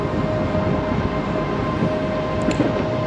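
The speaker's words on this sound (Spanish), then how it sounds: "Ahí tenemos el tranvía, que lo coges aquí, son 5 paradas" A tram passing nearby in a city street, heard as a steady broadband rumble and rolling rail noise with a faint high whine, continuous and fairly loud throughout with no talking.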